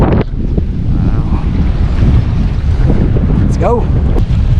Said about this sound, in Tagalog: medyo malakas yung hangin